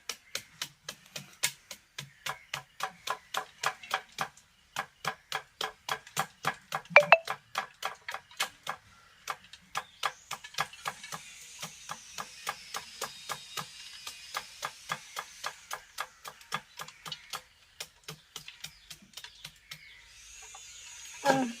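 Steady rhythmic chopping of a knife hitting young jackfruit on a board, many evenly spaced thuds in a long run, close and fairly loud.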